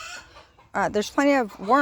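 Chickens clucking close by in a garden, a few short bursts of bright, warbling calls with brief quiet gaps between them.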